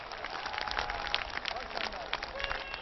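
A rally crowd applauds steadily and loudly throughout, a dense wash of clapping with no pauses.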